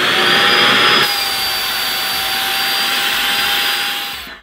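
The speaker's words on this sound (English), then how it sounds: "then we're gonna take the vacuum" A vacuum cleaner whines loudly and steadily up close, sucking the air out of a sealed storage bag, its pitch dropping slightly after a second as it keeps sucking until it cuts off.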